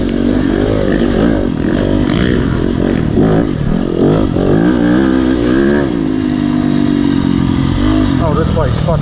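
A Yamaha YZ250FX dirt bike is ridden through the woods, its engine revving and bouncing in loud, close, uneven bursts over rough terrain, with a rider's voice mixed in.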